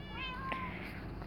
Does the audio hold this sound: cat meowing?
yes